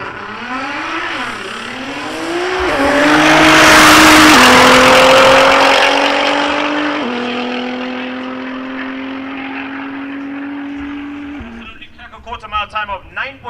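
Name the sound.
drag racing car making a quarter-mile run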